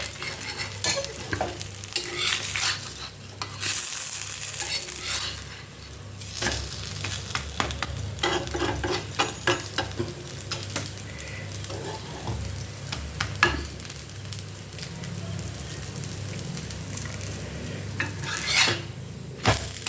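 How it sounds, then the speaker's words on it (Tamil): A potato masala and garlic chutney stuffed dosa crisping in generous oil on a griddle, steady close sizzling and frying with occasional scrapes and clinks of a metal spatula, no talk. "அப்படியே இந்த தோசையை கொஞ்சம் முருக வைப்போம். கொஞ்சம் ஆயில் தாராளமாக விடணும், அப்போ தான் நல்லா முருகும்"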